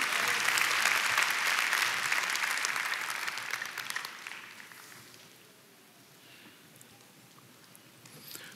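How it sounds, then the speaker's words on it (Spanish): Loud applause from a church congregation during a sermon, dense clapping that fades over several seconds into quieter room noise. "démosle un aplauso fuerte a aquel que merece todo honor, toda gloria"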